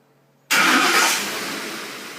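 A pickup truck engine fired by a Viper 5704 remote start catches abruptly after near silence, a loud close roar that settles into a steady, slightly lower idle rumble with no voices.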